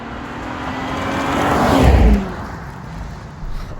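A 2022 Range Rover Sport pulling away onto the road: a steady engine hum swells as it accelerates, peaks, then eases off, heard from close by with no talking.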